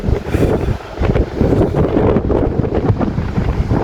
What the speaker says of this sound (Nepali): यहाँ चाहिँ हावा चाहिँ यत्तिकै चलिरहेको हुन्छ